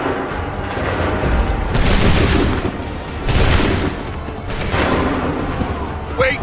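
Redcoat-era musket volleys crack out in Assassin's Creed 3 Remastered combat, three loud massed bursts a second or so apart, each a ragged crackle of many shots with a rolling boom, over steady battlefield noise.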